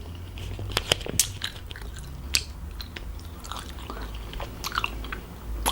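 Close, crisp chewing and biting of Korean mukbang food such as jokbal, anchovy, sushi, kimchi and seaweed, with repeated crunchy bites and wet mastication continuing steadily without talk.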